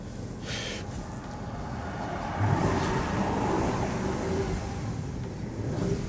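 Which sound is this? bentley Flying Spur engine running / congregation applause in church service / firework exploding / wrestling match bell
bentley Flying Spur engine running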